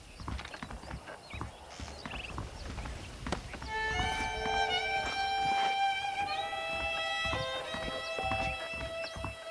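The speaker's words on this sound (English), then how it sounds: "The horses are saddled up over here." Saddled horses' hooves clip-clop at a walk in Red Dead Redemption, a steady rhythmic clatter at moderate distance with a brief whinny, soon joined by a bright sustained musical score.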